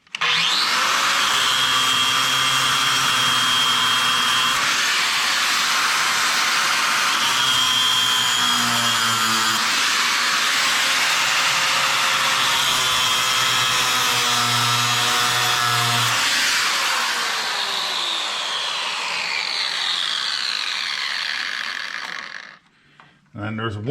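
A cut-off wheel grinding slots into steering rivets on a 1997 GMC truck, a loud, close high-pitched whine that holds for about sixteen seconds with pitch dips as it bites, then spins down.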